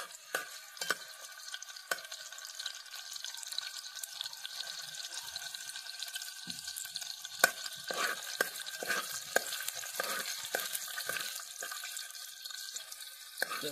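Vegetables are stir-fried in oil with garlic, giving a faint crackling sizzle with repeated sharp scraping and clinking strokes of a spatula against the pan, and no one talking.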